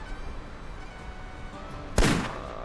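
A single sharp rifle shot fired at a fox during a polar hunting video game, a sudden loud crack with a short decaying tail after quiet low ambience.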